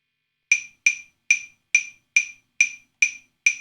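Metronome app ticking at 140 beats per minute, eight sharp bright clicks in a steady pulse with near-silence between them, clear and alone.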